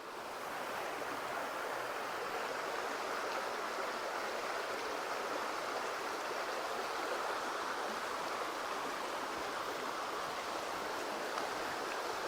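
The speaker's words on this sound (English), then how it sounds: "And the river is really full this morning." A swollen river in Welsh woodland after a rainstorm, flowing toward a waterfall, as a steady broadband rushing roar, continuous and moderately near, with no voices.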